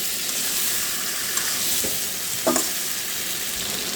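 Baim fish fries with eggplant in a pan for a bhuna, a continuous hiss broken by two short scraping stirs midway.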